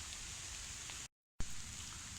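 Rain falling outdoors in a garden, a steady hiss of drops hitting surfaces, cut off by a short gap of silence before resuming at the same level.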